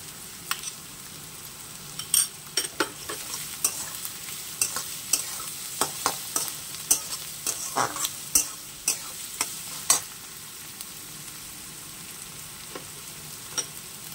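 Chopped garlic fries in a pan with already-fried onions, giving a steady low sizzle. A utensil stirs and scrapes it in irregular clinks and knocks that bunch together in the middle, then fade to occasional taps.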